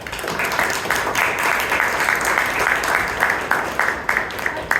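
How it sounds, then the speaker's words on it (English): An audience at a Toastmasters club meeting in Bangalore claps steadily for several seconds, a dense patter of many hands at an even, moderate loudness. "Kindly give a good enough applause."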